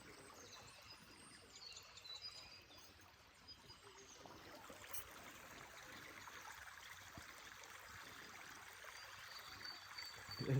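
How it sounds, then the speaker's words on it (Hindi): Water trickles and flows gently through the quiet Bastei valley in Germany, a soft continuous babble heard from nearby with faint bird calls scattered above it and no voices. "सिर्फ यहाँ पे पानी की आवाज़ थी और परिंदों की आवाज़ थी।"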